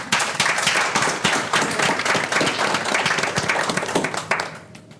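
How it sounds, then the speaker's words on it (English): An audience at a startup panel discussion breaks into dense, lively applause, many hands clapping at once for about five seconds before it thins out at the end. "So maybe a big applause for Andrea"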